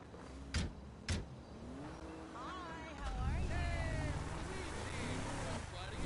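Car engine in GTA 5 idling and then revving up, with two door thuds at the start, steady low motor rumble building louder, and game characters talking over it.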